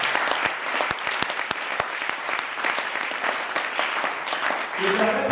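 A church congregation claps together in sustained applause, dense and steady with sharp individual claps throughout, voices mixed in beneath.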